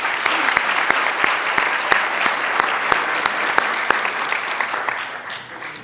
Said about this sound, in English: Please join me in giving a special round of applause to welcome these dignitaries.